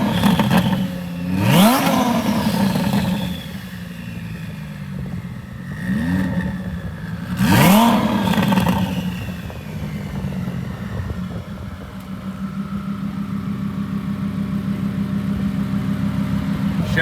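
A twin-turbo Lamborghini Huracán's exhaust blips and revs sharply a few times at close range, then settles into a steady rumbling idle.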